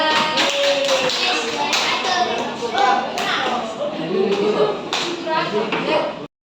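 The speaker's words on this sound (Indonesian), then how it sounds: "Tepuk tangan semuanya." Schoolchildren in an Indonesian classroom clap their hands together, an uneven patter of many palms with voices chattering throughout, until the sound stops suddenly.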